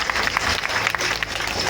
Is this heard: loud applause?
yes